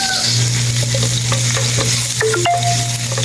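Garlic frying in a pan for a milkfish with pineapple dish, a steady close sizzle with a low hum, a few clinks and short scraping stirs toward the end.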